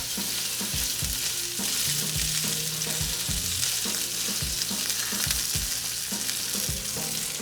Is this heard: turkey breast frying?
yes